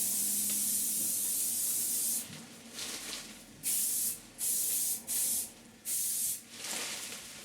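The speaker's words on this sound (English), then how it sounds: "give it a spray with leaf shine." Leaf shine is sprayed onto the foliage of a hand-tied flower bouquet in about five short, close, hissing bursts separated by brief pauses.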